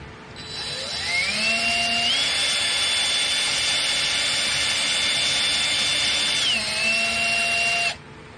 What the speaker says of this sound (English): We're going to drill a hole for our tacks.